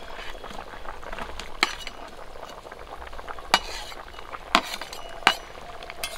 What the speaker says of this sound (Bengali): ঝোলটা ফুটে গেছে, ভেজে রাখা মাছ দিয়ে দেবো।